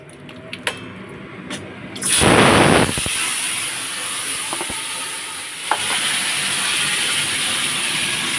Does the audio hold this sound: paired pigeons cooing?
no